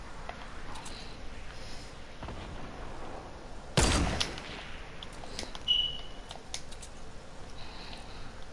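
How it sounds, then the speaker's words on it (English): Gunfire in the video game Fortnite: one loud, sharp shot cracks out in the middle, followed by a fainter pop, against a quiet background. "Who's shooting at my guy? Who's shooting at him, bruh?"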